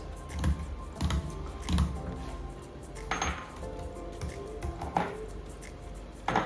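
Keys clatter in short irregular bursts on a computer keyboard while details are typed into an online ticket booking form, close and fairly quiet.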